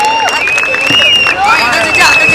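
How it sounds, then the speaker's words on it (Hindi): Audience at a wedding sangeet raises a steady, close crowd roar of cheering and clapping, with whistle-like tones weaving through it, filling the whole stretch without a pause. "जोरदार तालियां यार."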